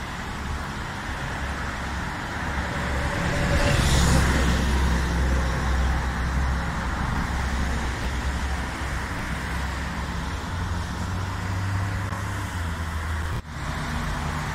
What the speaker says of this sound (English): Quite a busy road for this city.